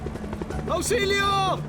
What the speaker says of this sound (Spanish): Oía helicópteros.